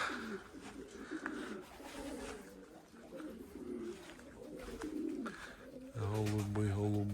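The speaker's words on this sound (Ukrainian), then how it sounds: "Голуби." Soft pigeon coos repeat low and close, then a louder throaty cooing swells at the end, with faint outdoor rustling throughout.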